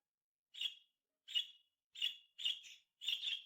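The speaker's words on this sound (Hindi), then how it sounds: "ये छोटी सी चिड़िया बहुत प्यारी है।" A small golden bird gives five short, bright chirps, evenly spaced and close, the last two doubled, with silence between them.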